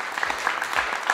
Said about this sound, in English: One more round of applause for our guest, Trapman Chewkz